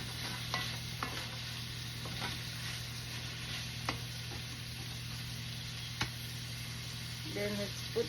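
Vegetables sizzle steadily in a frying pan while being stirred, with a soft continuous fry and occasional sharp knocks of the utensil against the pan. A faint voice briefly murmurs near the end.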